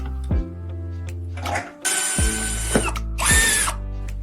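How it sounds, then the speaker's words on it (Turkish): A power drill bores a hole into a plastic wall dowel clamped in a vise, with a low motor whine, then two loud grinding bursts as the bit bites into the dowel, close up. "Düberi mengeneye sabitleyin ve içine bir delik açın."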